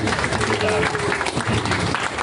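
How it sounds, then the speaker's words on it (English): An audience at an evening event with pizza and drinks gives a round of applause, a dense continuous clatter of many hands clapping at once with crowd noise mixed in, loud and steady throughout. "Let's give them a round of applause real quick."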